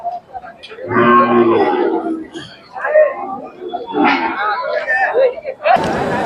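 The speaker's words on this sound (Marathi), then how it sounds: "दुधाची खिल्लार गाय आहे" A Khillar dairy cow lets out a deep, drawn-out moo at a cattle market in Sangola, with people chattering and calling nearby around it.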